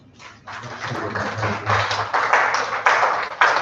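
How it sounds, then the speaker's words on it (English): An audience at a Rotary peace and conflict prevention symposium breaks into applause, a dense, steady patter of many hands clapping that starts softly and holds loud for several seconds. "I'm not sure we have given her a round of applause yet"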